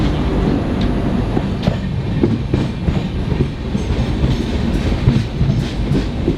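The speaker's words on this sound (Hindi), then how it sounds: "2 मिनट का हॉल्ट लेकर के ये निकल पड़ी है एग्जैक्ट 9:50" Dibrugarh–Kanyakumari Vivek Express pulling out of Simaluguri station after a two-minute halt, a steady loud rumble of rolling wheels and carriages with faint rhythmic clatter, no voices.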